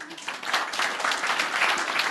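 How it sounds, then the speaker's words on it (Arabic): At a physics workshop session, an audience gives a short round of steady clapping that ends a talk, close and even, with no speech over it. "تصفيق لتايلر"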